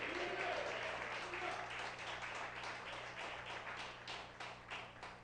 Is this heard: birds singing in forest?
no